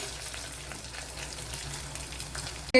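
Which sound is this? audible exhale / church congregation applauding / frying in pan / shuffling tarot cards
frying in pan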